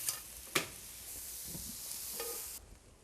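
Garlic sizzles in a hot pan for a barley mushroom risotto as a spoon stirs it, a steady close frying hiss with a few scraping knocks.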